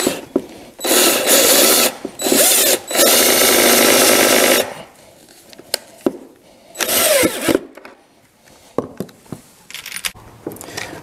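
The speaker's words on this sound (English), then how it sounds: "I'm going to attach this thing with pocket screws." A drill driving pocket screws into an oak desk part, heard as loud whirring bursts of a few seconds each, separated by quieter clicks and knocks of handling.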